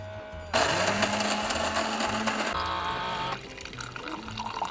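Milk pours from a bag into a single cup of coffee, a loud, steady liquid stream running for a few seconds and then fading to lighter trickling.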